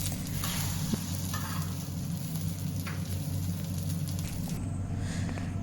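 Burger patties and tikkis sizzle steadily on a crowded griddle, giving a dense, continuous crackle with a few faint clinks and scrapes and no talking.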